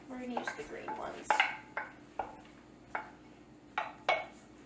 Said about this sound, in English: now we're gonna put the lentils in. So these are green lentils.